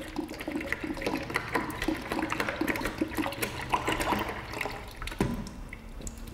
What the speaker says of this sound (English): pour it into your bucket